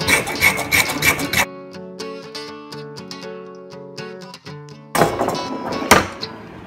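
Knife shaving and carving a red oak wand, with short bursts of rasping cuts at the start and end framing a stretch of quieter scraping and tapping close by.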